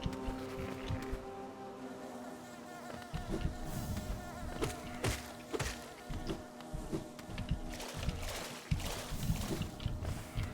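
Bees buzz in the video game Hollow Knight around Kingdom's Edge, a steady insect drone running through the whole stretch, with sharp bursts of game effects and thuds layered over it.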